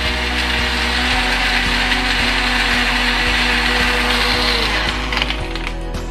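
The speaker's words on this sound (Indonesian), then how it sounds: "ini yang tadi saya bilang pentingnya blender, kalau bisa yang agak bagusan supaya dia menghancurkan es batunya bisa lebih baik ya" A blender crushes ice cubes for a sachet-coffee iced milk coffee, with a loud, steady grinding whir and rattling clatter running the whole time before easing slightly near the end.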